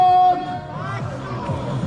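A football stadium crowd at a Polissya versus Zorya Ukrainian Premier League match roars for the head coach's introduction, a broad, steady wash of noise beneath a loud announcer's voice.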